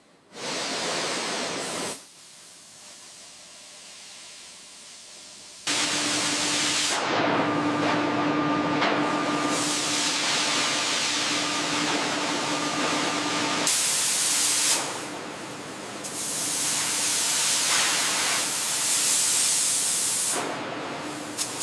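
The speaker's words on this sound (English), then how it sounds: "This is the computerized plasma cutter." Computerized plasma cutter slicing 50-millimeter steel plate in a heavy shipyard: loud, continuous roaring hiss that starts abruptly, holds steady for long stretches with brief breaks, and carries a faint tonal hum underneath.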